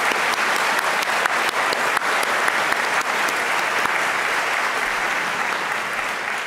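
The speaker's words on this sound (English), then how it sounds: "Let's give our faculty, staff, students, and guests a warm round of applause." A large audience gives a warm round of applause at a university business school induction ceremony, dense continuous clapping that stays loud and even from start to finish.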